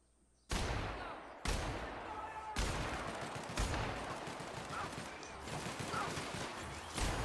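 Gunfire from the video game The Outer Worlds, a run of heavy, booming shots and bursts that land every second or so and repeat for several seconds, loud and close with no talk over them.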